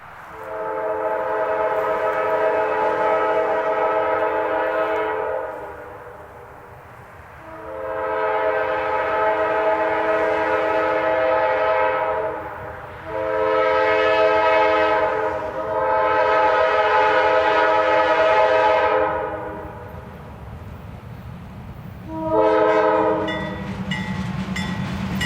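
Nashville & Eastern train passing, loud nearby horn blasts in long and short sounds, repeated several times over the rumble and clatter of the rolling train.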